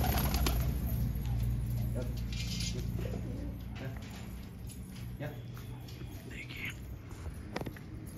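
Lalband pigeons of a fancy breed coo with low, throaty, repeated rolls that run steadily throughout, with faint voices murmuring in the background.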